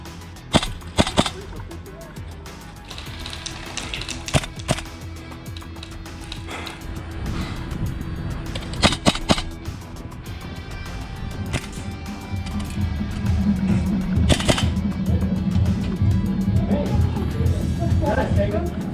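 A Tokyo Marui Saiga-12K gas blowback airsoft shotgun firing in sharp, close cracks, single and paired shots spread across the clip, with people talking and calling out around them.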